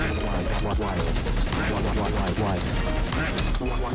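Rapid Halo 4 gunfire and weapon bursts crackle densely and loudly throughout, a continuous firefight with game effects layered on top.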